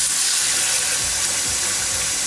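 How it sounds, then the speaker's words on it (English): Water gushing from a faucet into the bowl of a newly renovated kitchen sink with quartz countertops, a loud, continuous close rushing splash with faint mechanical clicks underneath. "And you can see it starts filling up inside the sink."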